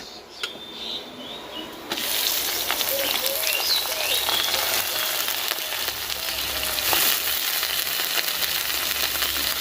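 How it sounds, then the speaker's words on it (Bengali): Chicken mince dropped onto browned onions in a hot pan, a quiet stretch broken by a sudden loud burst of sizzling that then holds steady and close, with light stirring scrapes. "এবার আমি কিমাটা দিয়ে দেবো পেঁয়াজটার ওপরে।"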